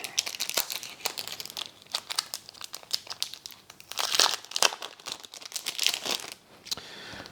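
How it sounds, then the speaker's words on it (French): A game card is slipped back into a paper envelope during a solo board-game session, giving soft, close crinkling and rustling in short irregular bursts. "Donc ma carte statue, déjà, j'en ai plus besoin, je la remets dans l'enveloppe."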